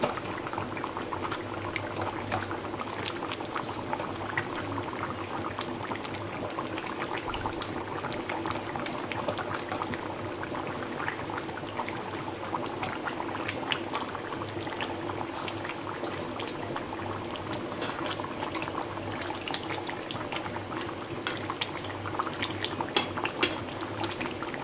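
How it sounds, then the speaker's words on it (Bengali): Fish curry broth boils steadily in a pot, a dense, continuous bubbling and simmering close by with no voices throughout. "ঝোল ফুটে গেছে সুন্দরভাবে।"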